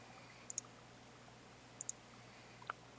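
Computer mouse clicks in a game editor, two quick double-clicks a second apart and one lighter click after, sharp and close against a faint steady hum, no talking.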